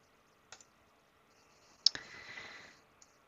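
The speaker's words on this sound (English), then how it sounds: "I'm going to click on my most recent visualization and click on Run this job again" A few quiet computer mouse clicks, one near the start and a sharper one midway followed by a brief soft rustle, then a final faint click.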